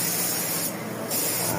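Spray gun applying color coat to a Toyota Wego car panel during a retouch job, a steady close hiss that briefly drops in the middle before resuming.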